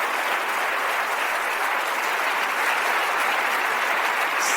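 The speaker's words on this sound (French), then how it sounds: "Très bien, applaudissons le Seigneur." A church congregation at a Bible study in Jacksonville, Florida applauds the Lord with dense, steady clapping that fills the room evenly for several seconds, with no talk above it.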